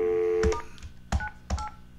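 A telephone keypad sounds dialing tones, a few short beeps spaced apart with faint handling clicks in between, fairly close and without speech.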